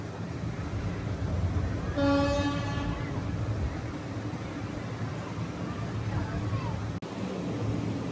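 The Narasapur–Arunachalam weekly special train 07219 rumbles steadily on its inaugural run, with a brief horn blast near the start over the continuous rolling noise.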